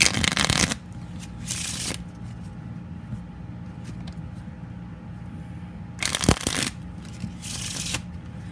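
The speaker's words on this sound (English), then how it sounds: "Now let's give the deck a good shuffle." A deck of cards is shuffled in two quick riffling bursts, crisp and close, separated by a few seconds of quiet room noise.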